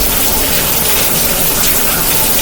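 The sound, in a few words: rain falling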